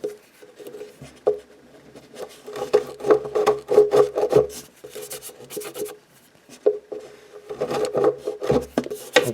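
A hand-turned deburring tool scrapes burrs from a drilled hole in wooden cabinet hardware, making close, dry rasping twists in irregular bursts with short pauses between.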